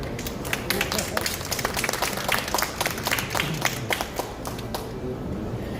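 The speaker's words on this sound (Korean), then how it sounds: "박수 한번 쳐주시죠." Applause from an audience at an AI drone technology conference, a steady dense patter of many hands clapping at even loudness throughout, with faint voices underneath.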